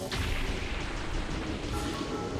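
An enemy blowing up in the Touhou Makuka Sai III demo, a bullet-hell shooter: a dense, continuous roar of booming explosion noise over busy game sound, loud and unbroken throughout.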